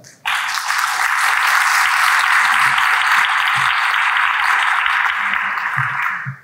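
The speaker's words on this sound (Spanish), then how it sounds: "Un aplauso para él." Audience at a conference on socioemotional skills breaks into dense, sustained applause for a visiting speaker, loud and even for about six seconds before stopping abruptly.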